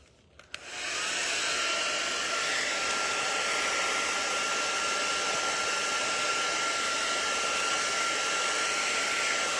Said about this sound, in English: And then take my blow dryer. The blow dryer will kind of flatten it out.